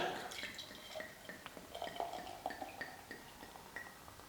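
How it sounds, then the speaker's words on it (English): Strong Wild Beer Co. Ninkasi celebration beer pours from a bottle into a glass, a faint close trickle with fizzing drips and small splashes throughout. "Now, let's pour it out. I'll give you a close-up of the pouring."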